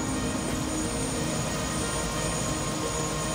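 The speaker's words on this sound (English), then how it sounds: "my company is picking me up in a helicopter" Helicopter flying in the video game Prey (2017), a steady, dense rotor and engine roar that holds at an even loudness throughout with no pauses.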